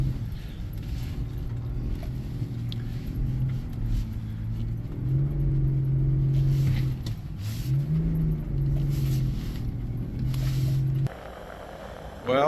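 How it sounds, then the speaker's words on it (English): A vehicle engine labours and revs steadily while pushing through deep snow on a road, its drone rising and falling in pitch over about eleven seconds before dropping to a lower, quieter tone. "Got to keep up the revs and push through."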